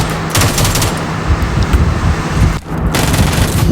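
Rapid automatic gunfire in PUBG Mobile as an enemy is knocked down, loud dense bursts of shots running almost continuously, with a brief pause before firing resumes.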